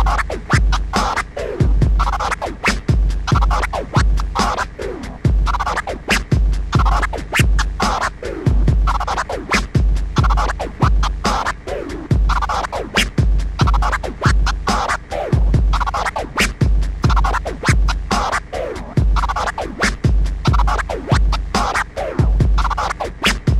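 Turntable scratch combo cut rapidly and rhythmically over a steady loud beat, dense percussive strokes running throughout with no talking.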